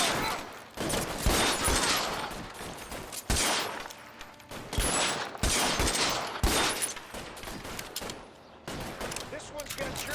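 Gunfire in the video game LA Noire, a shootout of sharp, loud shots and bursts spread unevenly throughout, with voices heard among the shots.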